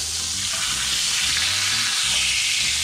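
Sous vide steak searing in a hot pan, a steady loud broadband sizzle of frying that holds evenly throughout with no talking.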